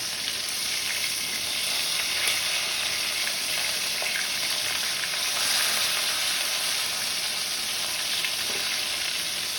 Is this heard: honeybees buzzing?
no